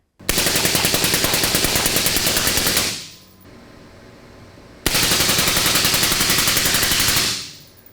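Two long bursts of full-auto rifle fire through AB Raptor and CGS Hyperion K suppressors, each a loud rapid rattling string lasting about three seconds, separated by a short quiet gap.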